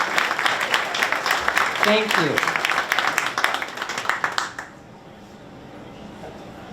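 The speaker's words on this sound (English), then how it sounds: "let's give her a round of applause" Audience applause at a political town hall, dense clapping running for about four and a half seconds under a brief spoken thanks, then fading to quiet room tone.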